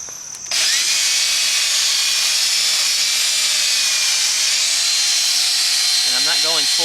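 A drill fitted with a polishing pad whirs at full speed against a 2008 Honda CR-V headlight, a loud steady high-pitched whine that starts abruptly and holds for several seconds.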